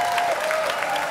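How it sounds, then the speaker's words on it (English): A concert crowd claps for veterans, a brief dense burst of applause at close, steady level. "Now we're going to clap for you."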